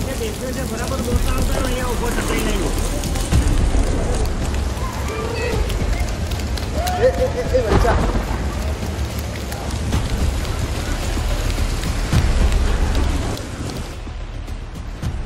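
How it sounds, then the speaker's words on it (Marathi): Heavy rain pours down in the Himalayas as a dense, steady roar throughout, with people talking at times over the downpour. "पण पाऊस एवढा पडत होता की गाडीकडे जायलासुद्धा आम्हाला मिळत नव्हतं"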